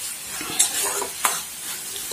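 A beans sabji fries in a pan over a raised flame, its even hissing sizzle punctuated by two sharp stirring scrapes, close up and without any voices.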